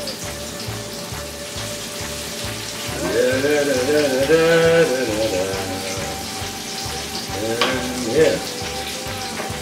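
Breaded tomato slices fry in a pan with a steady, close crackling sizzle that swells louder partway through, while a voice speaks briefly over it.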